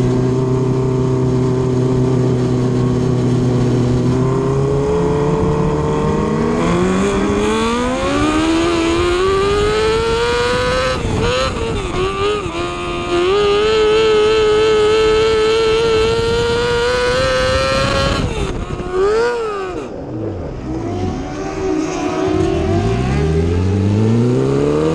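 A non-wing speedway race car's engine roars from inside the cockpit, revving and climbing in pitch through the gears, dipping briefly around the corners, then surging again with a loud, continuous buzzing drone.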